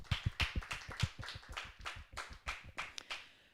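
Scattered hand clapping from a small audience at a harvest festival, a series of distinct sharp claps at uneven rhythm, fairly quiet and thin rather than a full roaring ovation.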